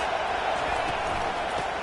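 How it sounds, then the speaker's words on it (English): A college football stadium crowd roars in a dense, continuous wash of noise with no breaks, loud and distant-sounding, filling the whole moment. "This crowd trying to make life miserable for this offense."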